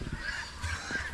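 Geese at a rural farm hut give a few short, fairly faint honks in quick succession, with a low background hum.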